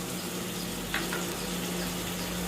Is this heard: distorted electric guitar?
no